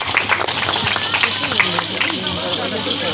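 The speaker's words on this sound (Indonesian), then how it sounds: "Tepuk tangan buat anak-anak generasi penerus." Crowd applause for children at a National Children's Day celebration in Indonesia, brisk clapping mixed with lively crowd chatter and voices throughout.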